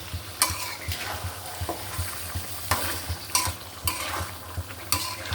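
Beef being stirred and sautéed in a pan while cooking, with a steady sizzle underneath and repeated scraping stirs at irregular intervals, close and moderately loud with no talk.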